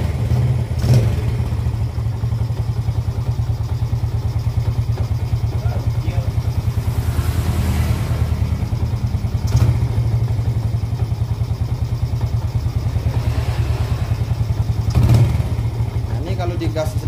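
A Yamaha Jupiter Z motorcycle engine that is weak and labouring and struggles at idle, running steadily with a low throbbing drone and small throttle blips, recorded close up while someone talks over it.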